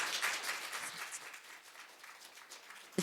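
An audience at a poetry reading claps after poems, a moderate spread of hands that thins out, then a sharp burst at the very end.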